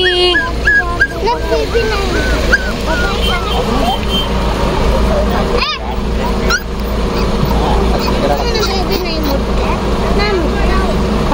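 Dogs yip, whimper and bark at a crowded dog carnival competition in Vijayapura, Karnataka, with repeated high whines and short barks close by, heard under and between steady human chatter and background noise.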